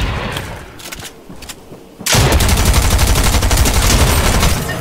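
Rapid automatic SMG fire in a video game starts abruptly partway through and then runs as a dense, loud, continuous burst. Before it, quieter scattered game sounds.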